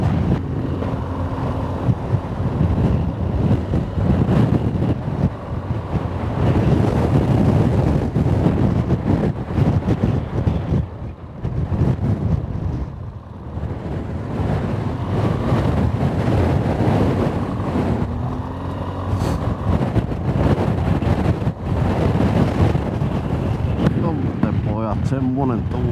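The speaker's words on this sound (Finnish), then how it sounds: "Aivan älytön tuuli." Strong wind in Arctic Norway buffets the microphone of a rider on a motorcycle in heavy, continuous gusts, with voices partly heard under the roar.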